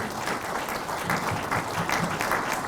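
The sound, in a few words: church congregation applause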